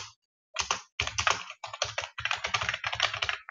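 Close, steady typing on a computer keyboard while entering code, a rapid run of clicky keystrokes in short bursts separated by brief pauses.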